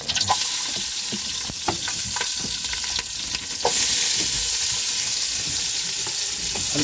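Onions frying in hot oil in a pan, a constant sizzle broken by scraping stirs and clinks of a utensil, with the sizzle growing louder and brighter partway through as more goes in.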